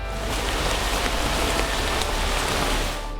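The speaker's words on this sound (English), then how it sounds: "Our chances of finding the chimpanzees were not looking good with the rain that started to fall." Steady rain falls through a forest canopy, a dense continuous patter of drops on leaves and ground, fairly loud and even throughout with no voices.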